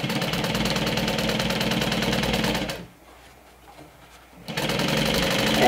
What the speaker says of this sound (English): Make sure you back stitch at the beginning and at the end.